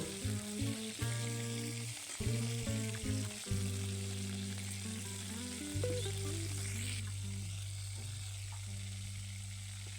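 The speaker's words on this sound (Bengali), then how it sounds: "মাছ ভাজা তেলের মধ্যে আমি জিরেটা দিয়ে দিলাম" Cumin seeds sizzling in oil previously used to fry fish, a fairly quiet crackle running under strong steady hum and tonal background noise, with brief louder bursts early on.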